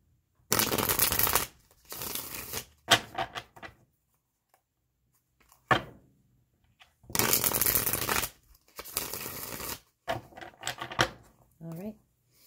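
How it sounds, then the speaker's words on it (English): Tarot cards are shuffled in several loud, crisp riffling bursts, each lasting about a second, separated by short pauses and small taps as the deck is squared. "Two more shuffles."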